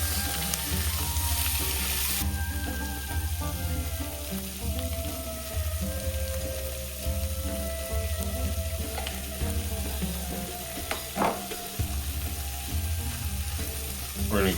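Roasted pork and caramelized vegetables seasoned with shawarma spice fry in a pan for a Turkish-style pork hash, a steady loud sizzle with a low rumbling hum underneath and occasional scraping stirs.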